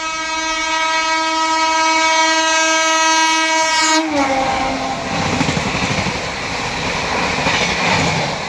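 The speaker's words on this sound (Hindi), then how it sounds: "आ गई अपनी भुवनेश्वर राजधानी एक्सप्रेस अपनी हावड़ा स्पेशल ट्रेन को ओवरटेक करने।" Indian Railways Bhubaneswar Rajdhani Express passing and overtaking the Howrah special train: a loud, sustained multi-tone horn blares for about four seconds, then cuts off into a heavy rushing roar of wheels and carriages rattling close by.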